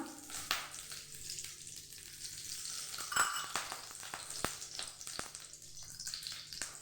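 A spoonful of ghee heating in a frying pan, a quiet steady sizzle with a few sharp ticks and clicks from the pan, close and without voices.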